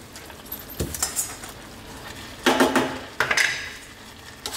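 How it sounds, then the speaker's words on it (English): Cold cooked pasta being stirred through a creamy spinach and garlic sauce in a pan, with scattered wet squelches and clinks of a utensil against the pan, close and unhurried. "we're going to run this sauce through the pasta, stirring it"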